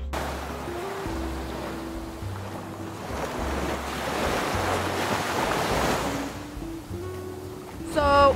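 Waves wash onto a stony beach in Athens, a continuous rolling surf rising and falling, mixed with wind buffeting the microphone and occasional low rumbles.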